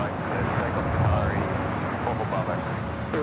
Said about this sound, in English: And Starlux touching down on 24 right